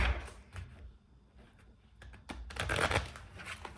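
Tarot cards are shuffled for a reading in a few soft riffling bursts, quiet at first and then building to a denser, louder flurry of card noise near the end, with no talking.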